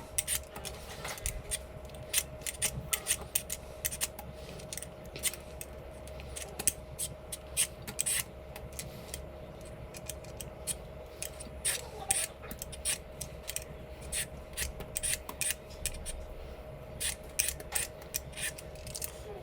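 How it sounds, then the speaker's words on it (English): A peeler scrapes the skin off green mangoes in quick, repeated strokes that keep up a steady, faint scratching rhythm over a low background hum, with no talk. "we're going to take a peeler and peel off all the skin"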